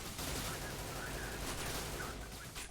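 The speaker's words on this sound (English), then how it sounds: "we can actually just shoot the roof above us at a certain place and go straight into the exit" Continuous rapid gunfire in a speedrun video game as the player shoots out a section of roof overhead, a dense sustained burst of shots close and loud with no pauses.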